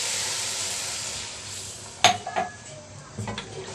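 A metal spoon scrapes and clinks in a cooking pot of mutton karahi with water added, set over low heat. Broad sizzling hiss fills the pan and is broken by a few sharp knocks against the rim.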